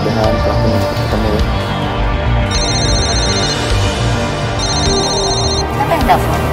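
A telephone rings in a tense Indonesian drama, two bursts of bright electronic trilling rising over a busy background of voices and music.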